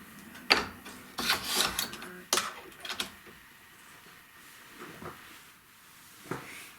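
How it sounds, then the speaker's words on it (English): Quilt fabric being trimmed along a trim line with a rotary cutter, a few quick scraping cuts and rubs near the start, then sparse faint handling sounds and one late cut. "we need to trim all of this off here"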